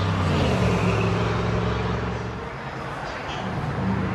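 A 1997 Chevy Silverado 1500 with a 5.7 liter V8 and factory catalytic converters idles nearby, a steady low exhaust rumble that holds level with a slight dip midway.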